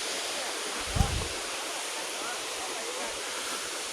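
Steady broadband rush of a waterfall in Laos fills the whole stretch, with a brief low thump near the start and faint voices underneath.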